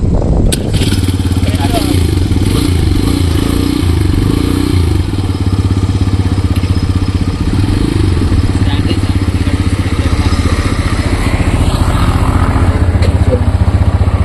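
A TVS Raider 125 motorcycle started while up on its stand, the engine catching quickly and settling into a loud, close, steady idle rumble with some mechanical clatter; someone talks over it.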